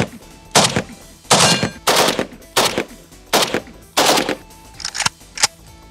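Full-auto gunfire at an outdoor range, heard as several loud, close bursts of rapid shots separated by brief pauses, with no talking.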